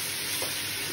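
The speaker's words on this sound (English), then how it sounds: "So a nice little stir, like so." Soy sauce and honey sizzle in a hot pan as they are stirred and deglazed for miso ramen, a soft continuous hiss with a faint scrape of the spoon, alone and fairly quiet.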